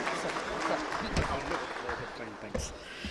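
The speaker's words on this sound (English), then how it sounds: "And a round of applause as I welcome Mr. Dhruba Mukherjee on stage." Conference audience at a morning opening session applauds steadily for a few seconds, a dense wash of clapping from a hall crowd, fading slightly toward the end.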